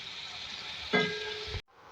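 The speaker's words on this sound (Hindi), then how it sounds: "देखिए यहाँ पे आलू फ्राई हो रहे हैं" Potatoes fry in hot oil for a dhaba-style aloo fry, giving a steady close-up sizzling hiss that swells briefly, then cuts off abruptly after about a second and a half.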